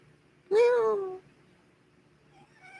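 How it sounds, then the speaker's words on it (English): A pet cat named Missy lets out one loud, drawn-out meow close by, then quieter vocal sounds follow near the end. "She's always meowing and meowing and meowing."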